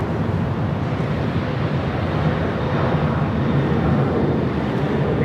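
A United Airlines Boeing 777-200ER jet bound for Honolulu at Los Angeles International Airport gives off a steady, broad engine roar that holds evenly throughout, mixed with some wind buffeting and no talk.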